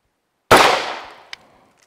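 A single handgun shot fired one-handed on a range, one sharp loud crack with a short decaying tail and a faint metallic click just after.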